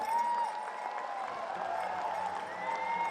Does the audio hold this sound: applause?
yes